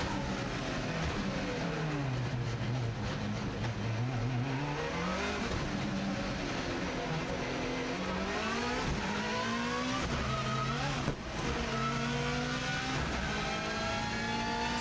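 Subaru WRX STI on a circuit working through a tight hairpin, engine note dipping as it slows, then climbing through revs as it pulls away, loud and close throughout with no talk.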